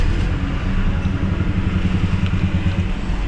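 A 2011 Hyundai Tucson with a check-engine fault and low power idles roughly, giving a loud steady low engine drone with a slightly uneven throb and no talking.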